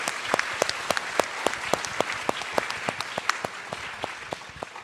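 An audience applauds panelists at the close of a charity panel discussion, with a steady round of sharp, distinct claps close by, neither building nor fading.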